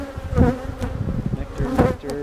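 Honeybees buzz steadily and fairly close during a mid-March hive inspection, a dense continuous drone with rising swells of wingbeat as bees move around the open frames.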